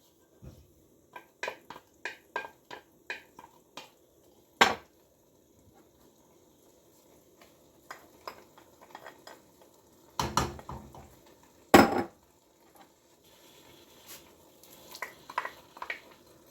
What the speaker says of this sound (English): I'm going to add all my beans in here.